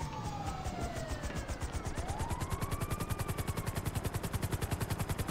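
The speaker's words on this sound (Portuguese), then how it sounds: "A ambulância." Ambulance siren in the video game GTA roleplay: a wailing tone sweeps down and then rises again over a loud, steady, rapid thudding pulse that grows more regular toward the end. No one speaks.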